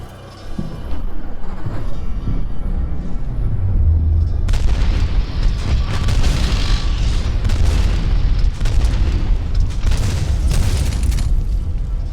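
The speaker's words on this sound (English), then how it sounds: "So I do have to go towards the explosions." Heavy booming explosions in the F.E.A.R. video game, rumbling low and loud with repeated bursts and crackling debris layered over a dark droning background, no voices.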